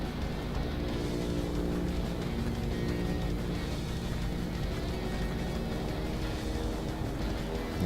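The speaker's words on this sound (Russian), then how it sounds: "Звук работающего двигателя достаточно тихий, что позволяет оставаться незамеченным до последнего момента." A quiet plane engine in the video game Heroes and Generals runs as a steady, even drone with no breaks.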